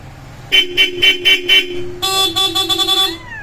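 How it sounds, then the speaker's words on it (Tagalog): A loud Bosch Europa car horn blares in a run of short rhythmic toots, then a second, brighter horn honks in quick repeated bursts before trailing off. "Napakalakas ang busina natin."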